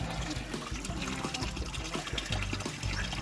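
Spring water from a mountain source on Monte Moregallo runs and splashes continuously, a steady nearby pouring and trickling that fills the whole moment.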